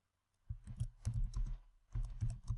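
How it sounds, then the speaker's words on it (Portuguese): Bursts of typing on a computer keyboard as a paragraph is entered, with rapid clustered keystrokes after a brief silence, a short pause, then another run of keys, close and fairly loud. "eu vou digitar o segundo parágrafo"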